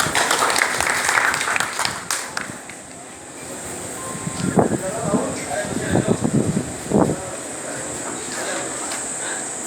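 Applause from an audience at a school ceremony where a legislator honors board-exam merit students, sustained clapping with wind-like noise through the whole stretch while someone speaks over it in the middle.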